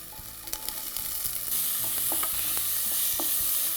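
Green peas and ginger-garlic paste sautéed in a pan, with a steady sizzle that grows louder midway and scattered scrapes and clinks of a spoon stirring; no one talks.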